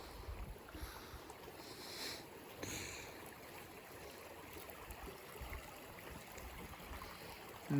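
A stream flows under a footbridge on an evening walk, giving a faint, steady rush of water with soft, even texture throughout and no voices.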